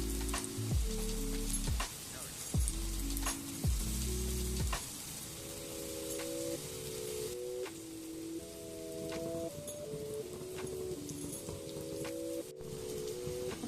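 Pumpkin slices coated in flour shallow-fry in oil on a shallow tawa over a low gas flame, giving a steady, soft sizzle that runs throughout. Low tonal sounds sit underneath and nobody speaks.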